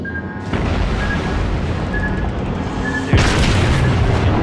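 In the naval video game World of Warships, loud booming shell hits strike a warship amid continuous dense roaring battle noise, with a sharp fresh burst near the end.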